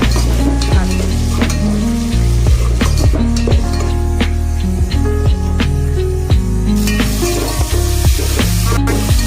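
Sambar onions frying in a pan with green chilli, a loud, continuous close sizzle with occasional spoon taps and scrapes against the pan.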